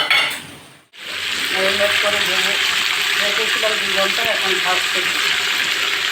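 Onions sizzle and crackle steadily in hot oil in a pan, a loud continuous frying hiss after a short quiet break, with occasional stirring clinks close by.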